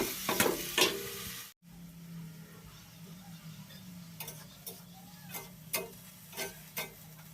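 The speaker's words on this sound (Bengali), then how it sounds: "বেগুন আর আলু কুচিয়ে রেখেছি সেটাকে আমি এখন ভেজে নেবো" Chopped eggplant and potato frying in a pan, with a steady low sizzle broken by sharp scraping and stirring clatters from a utensil, a brief dropout early on, then more intermittent clinks against the pan.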